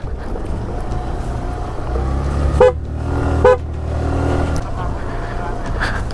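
A vehicle approaches on a muddy mountain road in Benguet and sounds two short horn toots about a second apart over a continuous engine and wind rumble from a scooter ride.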